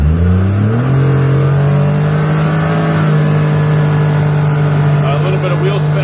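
Ford Ranger truck running a level 1 tune on 91 octane, launched hard in sport mode: a loud, close engine roar that climbs quickly in pitch, then holds a strong steady drone while accelerating, with a faint upshift-like shift near the end.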